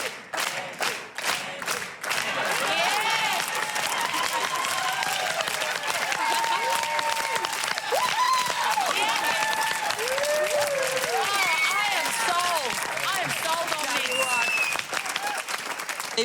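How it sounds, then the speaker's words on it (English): Audience applause and cheering at a comedy panel show, dense sustained clapping with whoops and shouts, loud and continuous after a few opening claps, with voices calling out over the crowd. "Do you need, like, a rhythmic applause?"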